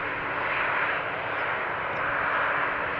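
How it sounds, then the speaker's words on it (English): Distant KLM jet aircraft approaching Amsterdam Schiphol, a continuous even engine roar with faint whine, steady and unbroken throughout, with no talking. "Two more planes are coming in the distance"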